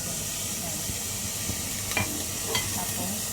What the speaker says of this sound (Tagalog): Lalagay ko na itong garlic, onion. Sabay-sabay ko na sa pork.